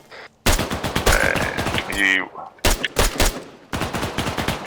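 Loud, close bursts of rifle fire from the Arma 3 military simulation video game crack in rapid volleys separated by short silences, with voices briefly heard between the shots.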